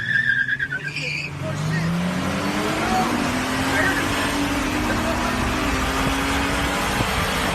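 A V6 Ford Mustang convertible drag racing a Ford Fusion, engines droning loudly with rising pitch as both accelerate hard, continuous and close throughout, with faint voices near the start.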